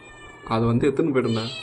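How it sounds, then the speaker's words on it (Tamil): A cat meows up close near chicken being cooked, one drawn-out, wavering meow that is loud and clear against a quiet background. "சிக்கனை பார்த்துட்டு பாருங்க friends, பூனை வந்துச்சு."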